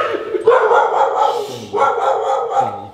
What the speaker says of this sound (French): Que des chiens dans cette vidéo aujourd'hui